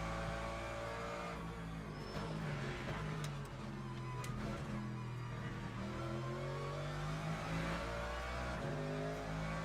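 A Mercedes GT3 race car engine drones in Le Mans Ultimate at Imola, a sustained harmonic roar shifting pitch as it revs and eases through corners, steady and moderately loud with no talk.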